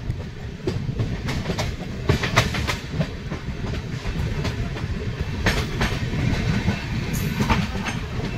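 Padatik Express passenger train rolling on rails between Alipurduar and Sealdah, a loud, continuous rumble with rapid clickety-clack wheel beats and occasional metallic clanks, heard from on board.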